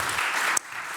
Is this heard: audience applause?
yes